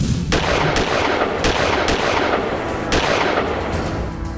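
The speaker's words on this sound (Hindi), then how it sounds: "दोनों पिस्टल से धड़ाधड़ गोली बरस रही है" Rapid gunfire from two pistols outside a restaurant in Kurukshetra, Haryana, a string of loud sharp shots at an uneven pace over a continuous noisy background.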